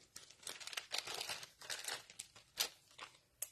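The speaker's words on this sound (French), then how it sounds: "Je prends du ruban adhésif." Adhesive tape being pulled and torn off the roll while assembling a quick paper mini album with cards and envelopes, heard close up as a series of crackly, crinkling rips and strips with short pauses, no voices.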